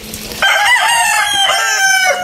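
A one-year-old muff bulik gamecock with a beard gives a single loud, close crow lasting about two seconds, rising and holding before it trails off.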